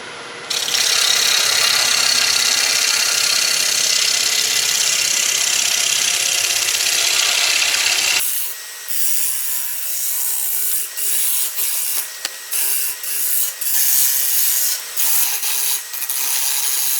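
An oak natural-edge bowl spins on a wood lathe under a steady, loud rasping cut for about eight seconds. Then lighter scraping passes follow, with short pauses and scratchy strokes.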